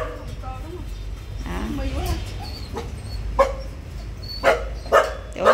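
Stray dogs caught in a residential neighborhood bark and yip in a few short bursts, moderately close, with a whimpering quality, over a steady background hum and some indistinct voices.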